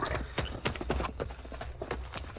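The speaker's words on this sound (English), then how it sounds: "Whoever he is, he's riding hard." A horse galloping hard, its hoofbeats drumming in a fast, continuous rhythm, loud and close throughout.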